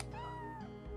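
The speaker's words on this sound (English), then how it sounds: "That's a weird cat." Single drawn-out meow from a cat in the Chrono Cross video game, a clear wavering cry lasting under a second over a quiet background tone.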